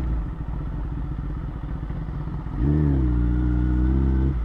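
A superbike motorcycle rides through a village, its engine rumbling steadily up close before the pitch rises into a louder, sustained drone as it revs.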